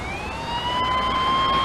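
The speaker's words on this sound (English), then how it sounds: "I hear the sirens going" Police car siren wailing steadily as the car responds to an emergency call, a rising tone held loud and continuous over traffic rumble.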